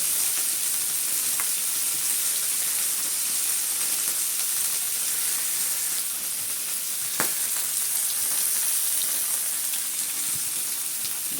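Indian mackerel shallow-frying in oil with curry leaves gives a steady, dense sizzle and hiss that holds without a break for the whole stretch, close and fairly loud, with one faint tap.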